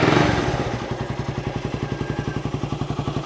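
A Rusi Raider 150 motorcycle engine just started and running after an exhaust gasket replacement, heard close as a steady, rapid, even pulsing idle after an initial rev, with no voices over it.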